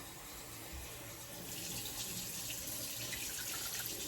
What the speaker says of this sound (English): we're just gonna toss a half cup of water in there.